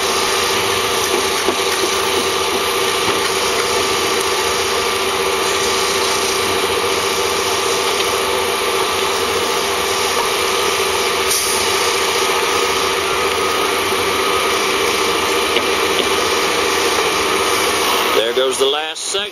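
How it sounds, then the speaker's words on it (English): A concrete pump truck engine running at a construction job pouring footings, a loud steady diesel drone with a constant hum, close and unbroken throughout. "we'll pump concrete across the job into the footings"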